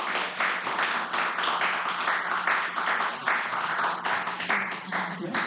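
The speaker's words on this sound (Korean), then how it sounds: "그리스 정치 전공을 하신 최자영 교수님 큰 박수로 모시겠습니다." An audience at a democracy forum claps to welcome a speaker, a full, continuous round of applause that holds steady and close, with a low hum beneath.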